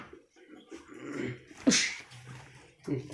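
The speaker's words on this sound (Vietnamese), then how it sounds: "chó" A dog outdoors gives a sharp sneeze-like snort among soft whimpering and breathing sounds, with brief low rumbles, close to the microphone; murmured voices are faintly present.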